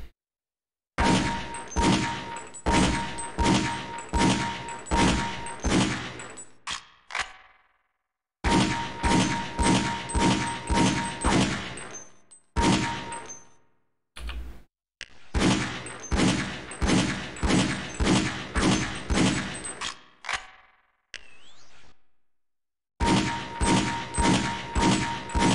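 Pistol shots at the boot camp firing range in Half-Life: Opposing Force, loud rapid bursts of sharp cracks in several groups separated by short silences, ringing with echo.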